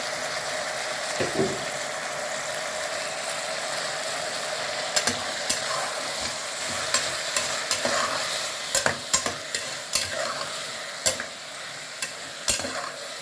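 A spoon stirs brinjal chutney seasoned with salt and turmeric in a pan, giving a continuous soft sizzle under repeated sharp scraping clicks that grow more frequent toward the end. No voices.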